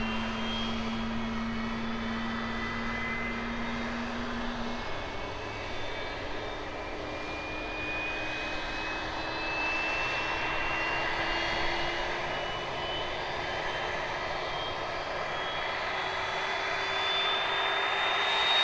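Aircraft engines starting up at Asahikawa Airport, a steady loud turbine whine and roar that slowly rises in pitch throughout with no talking.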